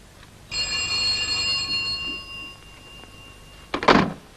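An old-fashioned telephone rings in a flat, one sustained bell ring of about three seconds, fairly loud and alone, followed by a short clunk as if the receiver is lifted.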